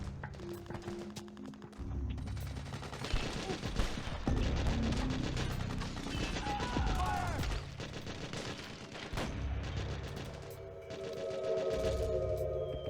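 Video game gunfire in Metal Gear Solid 4, dense bursts of automatic fire and scattered shots through a steady battle din, with shouting voices faintly mixed in.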